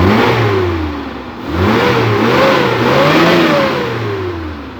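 A Suzuki Carry engine running on LPG gas revs up close, rising and falling in pitch through a couple of strong throttle pulls before easing back.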